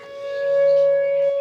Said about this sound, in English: We're testing our tornado sirens.